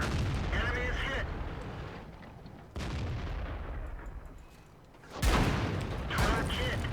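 Tank cannon fire in World of Tanks, a tank destroyer shooting: heavy booming shots land a few seconds apart, each with a rumbling tail, and a voice speaks between them.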